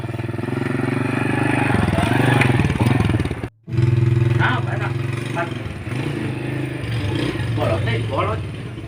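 A small motorcycle engine idles and revs steadily up close, with a brief cut partway through, then continues as people talk over it.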